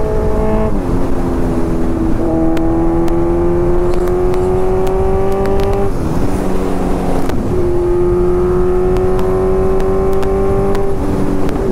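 A Yamaha R15 motorcycle on a Sunday morning group ride in Hyderabad: its engine note climbs steadily through two loud, close acceleration pulls, with a brief dip between them as the rider shifts gear. No one speaks.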